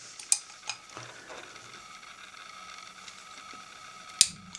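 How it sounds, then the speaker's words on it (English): Hex key loosening stiff, thread-locked grub screws on retracting landing gear of a Tarot Iron Man 680 Pro drone: a few sharp metallic clicks and ticks over quiet handling noise, with a last click near the end and no talking. "Loosen that one, they're quite stiff,"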